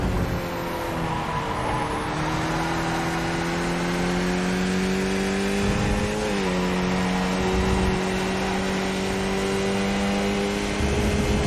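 Race car engine in an iRacing sim race revs hard and steadily throughout, with a brief pitch dip around a downshift before climbing again, loud and continuous with no talk.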